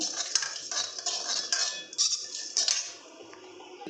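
Poppy seeds go into a pan of oil for frying chutney ingredients, giving light clinks, scrapes and crackles in a quick irregular series, close up and fairly quiet, with no talk.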